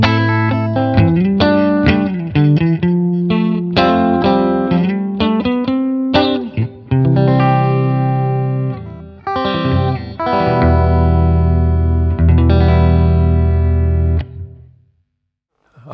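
Electric guitar played through a Laney Cub10 tube amp with a 10-inch speaker, loud and up close, moving from fast picked runs to sustained distorted chords with a full low end before ringing out into silence.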